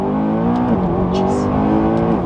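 A McLaren Speedtail accelerates hard from inside the cabin, its engine note rising and dipping through a gear change over about two seconds, loud and sustained.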